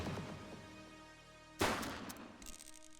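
A sharp gunshot blast from a police shooter video game cracks out after a stretch of steady background tone, followed by a couple of fainter follow-up pops as the firing continues.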